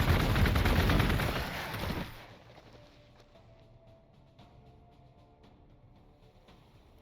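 Gunfire from the Warhammer 40,000: Gladius strategy game rattles in a loud, dense burst for about two seconds, then drops to a faint, scattered background of distant shots and clicks.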